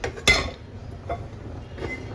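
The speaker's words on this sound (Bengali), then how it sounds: "এবার এখানে আমি কড়াইটা বসাবো" A kadai set down on the stove, a single metallic clunk followed by a few fainter clinks of cookware, close and fairly quiet, with no speech.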